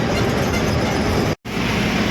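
A train at Bhilai railway station, glimpsed under a bridge, gives a steady, loud rumble of rolling cars that runs continuously, broken only by a brief dropout before it resumes.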